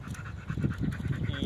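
Close, rapid panting from a male mixed-breed dog about one year old, quick rhythmic breaths that carry on steadily throughout.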